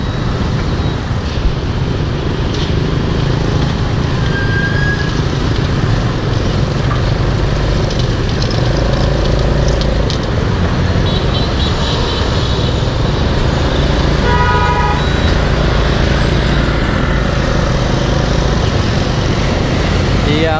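Loud, constant roar of road traffic with large vehicles on a dusty street along Huỳnh Tấn Phát, Nhà Bè, with brief horn-like tones rising out of the rumble.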